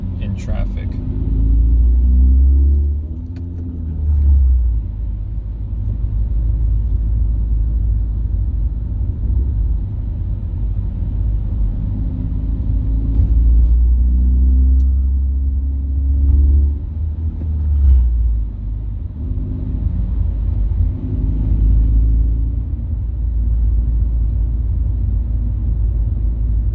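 A car without a catalytic converter drives through traffic, its engine and raw exhaust rumbling loudly and deeply from inside the cabin, surging with revs and easing off, while someone talks intermittently over it.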